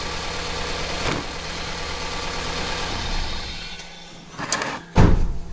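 A car engine misfiring on one cylinder idles with a rough, steady rumble, then cuts out near the end, followed by a brief knock and a door-like thud; no one speaks.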